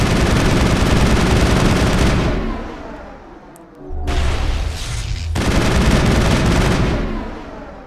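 Rapid automatic weapon fire in the Mass Effect video game, loud dense bursts that stop briefly and then resume, with a short pause in the middle and no talking.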